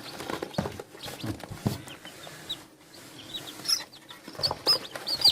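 Newly hatched chicks under a warm brooder stove, a mix of thin high cheeps and soft clucking with light pattering movement, continuing in scattered bursts close by.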